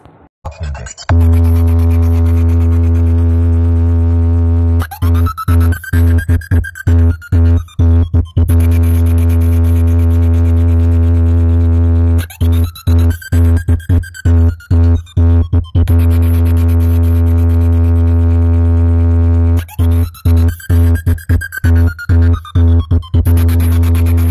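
Four MT Music speaker boxes blasting at a bala box competition, a loud droning bass-heavy tone with repeated bursts of choppy, stuttering sound over it, continuous and overpowering.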